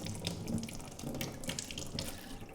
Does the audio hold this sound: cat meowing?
no